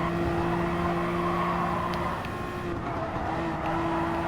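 Toyota and Porsche LMP1 race cars battle in Gran Turismo Sport, their engines holding a loud, steady whine with a slight pitch drop midway and faint tyre scrub beneath.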